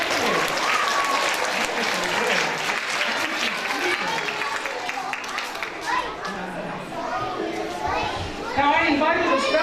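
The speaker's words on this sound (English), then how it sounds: "Give them all a round of applause." Audience applause for four kids on a stage show, a busy wash of clapping mixed with children's chatter and shuffling, voices talking throughout and a brief loud burst near the end.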